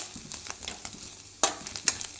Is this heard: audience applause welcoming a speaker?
no